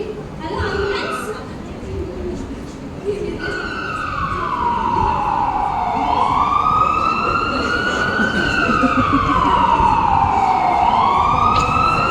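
An ambulance siren wails in long rising and falling sweeps, growing louder and nearer over traffic rumble, with a burst of talk at the start.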